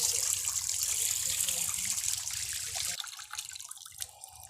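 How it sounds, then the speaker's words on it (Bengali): Water pouring and splashing as muddy feet are washed outdoors in a village after wading through knee-deep mud, a steady close gush that stops abruptly, followed by faint drips and small movements. "একটু পাটা ধুয়ে নিই"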